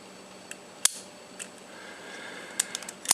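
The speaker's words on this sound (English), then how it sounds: "And that's what the shutter sounds like." Shutter of a Rollei 35 compact film camera fired several times at different speeds, giving sparse sharp mechanical clicks spread across a quiet room background, close and fairly faint.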